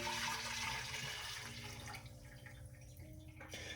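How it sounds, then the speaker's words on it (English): Homemade mushroom ketchup is poured back into a cooking pot, a soft liquid splash and trickle that tapers off over a few seconds with no one talking. "I'm gonna pour this back into the pot here."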